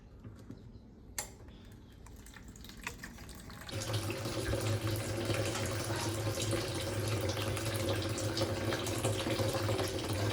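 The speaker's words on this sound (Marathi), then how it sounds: "आधी यात पाणी भरू, नंतर मग हे भरू." Water runs steadily into a pot being filled, starting softly after a few faint clinks and then becoming a loud, continuous pouring rush that lasts to the end, with no talking.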